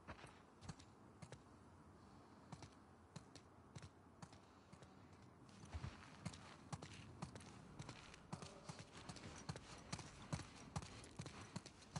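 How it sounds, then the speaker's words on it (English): Horses' hooves clip-clopping in The Last of Us 2, a steady, quiet clatter of many light hoof taps that grows busier and a little louder partway through, with no talking. "Let's get back to the horses."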